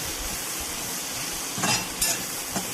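Okra salted and stirred in an iron kadai sizzles steadily, with three distinct scraping strokes of the spoon against the pan near the end.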